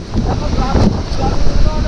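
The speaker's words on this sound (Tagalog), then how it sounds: "titingnan namin kung gaano kalakas yung hangin" Strong typhoon wind at the shore roars steadily across the microphone with a broad rushing noise, with surf rumbling underneath.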